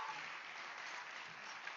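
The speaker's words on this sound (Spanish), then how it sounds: "Denle ese aplauso más fuerte al Señor." Steady applause from a church congregation fills the whole moment, a dense, even patter of clapping that neither swells nor fades.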